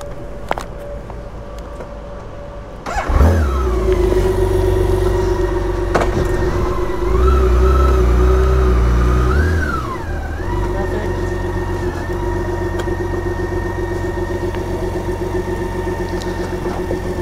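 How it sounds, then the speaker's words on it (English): Vehicle engines start up on a ferry deck, a deep idling rumble swelling in suddenly and then settling into a steady, fairly close drone with a tonal hum on top. "so the engines are starting"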